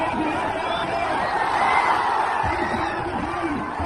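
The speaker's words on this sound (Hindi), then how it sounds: "ये देखो भीड़" A large crowd of young people at a Tejashwi Yadav rally sends up a continuous roar of cheering and chatter, with scattered whoops rising out of the steady, fairly distant wash of voices.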